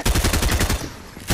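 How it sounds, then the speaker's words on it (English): Rapid video game gunfire in a first-person shooter match, a dense burst of repeated shots for most of the moment, a brief lull, then another close, loud burst at the end. "Shoot on Day."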